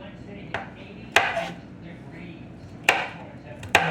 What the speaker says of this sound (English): I actually chop up the garlic.